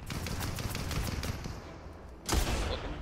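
Pistol gunfire in the Fortnite video game, played during an FNCS-style match: a fast flurry of sharp, close shots packed together for about two seconds, then a brief lull before another loud burst near the end.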